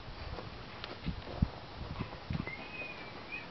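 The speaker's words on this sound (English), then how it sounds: "Do you like riding a horse?" Horse hooves clip-clop faintly and unevenly on the ground as a small child rides, with a few louder, closer steps against steady outdoor background noise.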